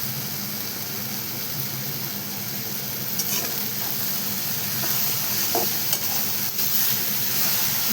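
Ambadi (roselle) leaf greens being sautéed and stirred in a pan, giving a steady broadband sizzle with a few faint utensil scrapes, moderately loud and continuous with no voices.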